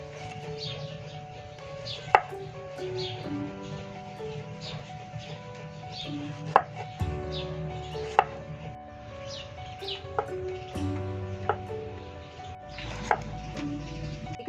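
A knife chops fresh strawberries on a cutting board in irregular sharp taps, close and moderately loud over light background music with birdlike chirps.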